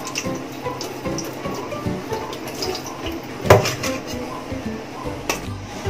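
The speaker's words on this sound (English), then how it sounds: "Pour water out." Water drained from a pot of cooked spaghetti, a watery splashing and pattering with a few clanks of the pot, one sharper knock in the middle, fairly close, with no talking.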